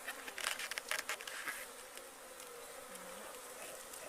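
Honeybees buzz in a steady, close swarm around an open hive during colony work, a dense continuous hum with louder flickers near the start and no talk.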